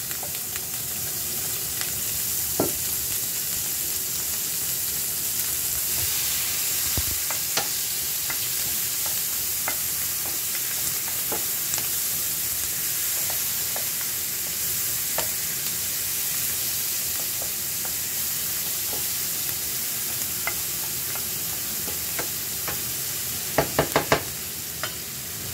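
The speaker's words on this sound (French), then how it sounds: "on ajoute le beurre et les oignons." Onions frying in butter in a pan while a rabbit-with-mustard dish is made, a continuous bright sizzle with scattered scrapes and clicks of stirring throughout, close and steady, no voices.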